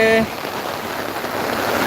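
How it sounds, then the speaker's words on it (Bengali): Heavy stormy rain pours steadily at a plant nursery in Bangladesh, a dense, continuous hiss close by that holds throughout, with a brief tonal sound at the very start. "এত বৃষ্টি হচ্ছে ঝড়ের মতো"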